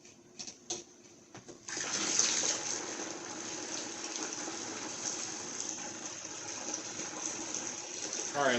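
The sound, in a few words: water flushing out of a Chrysler 200 heater core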